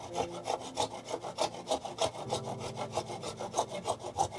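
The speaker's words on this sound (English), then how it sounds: "This saw is probably quite blunt." A blunt hand saw cuts through wood held in a miter block, rasping in a steady back-and-forth rhythm of about two strokes per second, close and moderately quiet.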